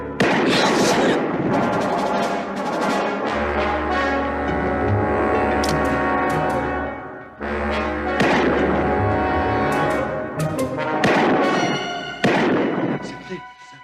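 Gunfire in a tense crime-drama scene, with heavy booming thuds and sharp cracks close and loud, spread across the clip among shouting and music-like tones.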